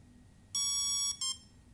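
A hobby electronic speed controller (ESC) gives two programming beeps, a long tone followed by a short one, bright and close against faint background hiss.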